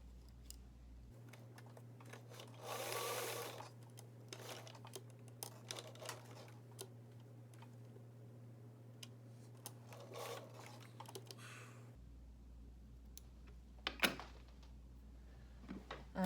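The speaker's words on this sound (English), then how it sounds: "So I'm going to try to sew a 1/8 inch hem right along this edge." A sewing machine stitching a 1/8 inch hem along stretchy fabric runs with a steady low motor hum for about eleven seconds, then stops, leaving faint clicks and handling noises.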